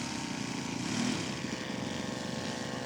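A scale model propeller aircraft drones steadily as it comes in to land at an outdoor scale aircraft show, the engine hum holding an even, moderate level with a faint swell partway through.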